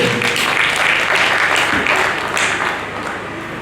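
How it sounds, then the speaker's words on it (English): A conference audience applauds for a university vice chancellor, loud close clapping from a large crowd that thins slightly toward the end. "Please put your hands together for him"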